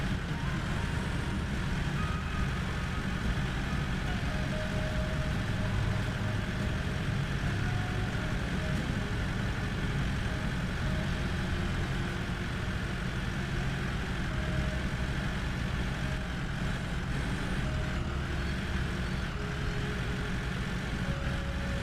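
A truck engine idling in a steady, unbroken low rumble that holds at an even level throughout, with no voices over it.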